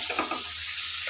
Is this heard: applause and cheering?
no